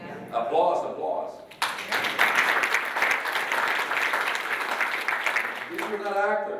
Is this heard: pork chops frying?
no